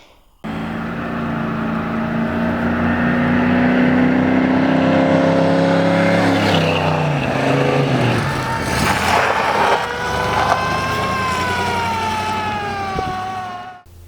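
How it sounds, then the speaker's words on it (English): A 1965 Chrysler Newport's Slant 6 engine runs loud and close, a steady droning hum with shifting tones as the revs rise and fall, then settles before cutting off. "So I'll go ahead and let you guys hear it run, let it idle for a little bit."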